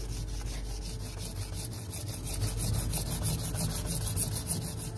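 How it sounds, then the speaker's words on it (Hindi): An herb is rubbed against a hard stone surface with steady gritty friction, a continuous close scraping texture with slight swells in intensity, no voices. "पत्थर के ऊपर इसको रगड़ने पे आवाज़ किस तरीके से महसूस हो रही है"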